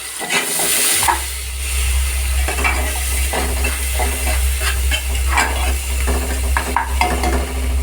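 Chopped garlic and onion fry in hot oil in a pan, giving a loud continuous sizzle under a low steady hum, with repeated scraping and clinking from the stirring spoon.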